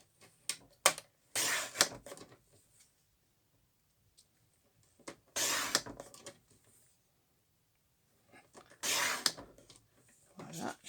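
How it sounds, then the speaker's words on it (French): Paper is cut in short bursts of scissor snips, three separate runs spaced a few seconds apart, with small clicks and rustles between them. "Je vais venir juste couper 3 petites bandes de papier."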